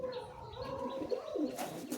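Orange-eyed pigeons cooing close by, soft layered coos with some chirping and a brief flutter of wings near the end, over a faint background hum.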